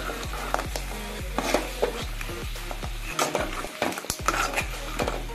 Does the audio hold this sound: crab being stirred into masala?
yes